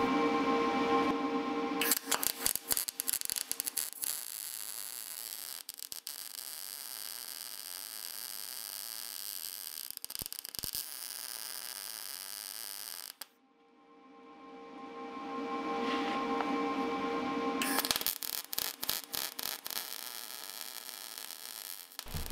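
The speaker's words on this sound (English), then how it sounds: "I'm gonna use the hole that's already in it to plug weld to the pipes" A welder plug welding a steel bar to pipes, long steady buzzing crackle near the mic, broken by brief pauses and one longer gap before the arc resumes, no talking.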